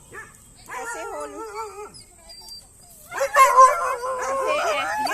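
Several dogs howl and bark together to drive off a newly arrived outsider dog, a long sustained howl first, then a louder burst of overlapping howls and barks close by.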